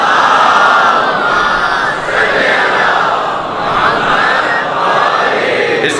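A large crowd at a Shia religious gathering recites salawat loudly in unison, a swelling, continuous roar of many voices rising and falling together in waves.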